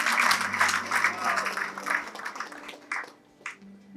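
Applause from a church congregation at a year-end night thanksgiving service, a broad wash of clapping loudest at the start that thins and fades over a few seconds, with faint voices underneath.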